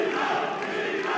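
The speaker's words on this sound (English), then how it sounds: "And this crowd in Frankfurt now comes alive." Fight crowd in Frankfurt cheering and roaring, a dense sustained swell of many voices throughout the short burst.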